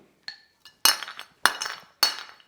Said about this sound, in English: I'm going to start by tossing the ice cube in the glass up, and then I'm going to juggle those 2 pieces of ice with the scoop.